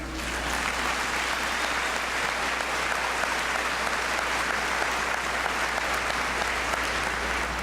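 Graduation audience applauding steadily at a school commencement, a dense, loud wash of many hands clapping continuously from start to finish with no break.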